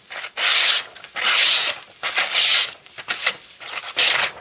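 A Benchmade HK 14300 knife with a 440C steel blade slicing through paper, giving a series of bright, crisp rasping swipes in quick bursts, close and loud, with short pauses between cuts and no speech.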